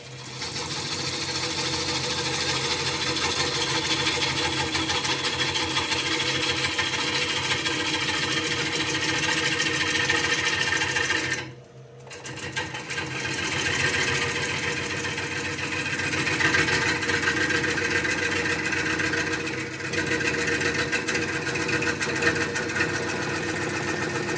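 Wood lathe roughing the outside of a bowl blank with a gouge, a steady loud motor drone with continuous cutting noise that dips briefly once before resuming, close and without speech.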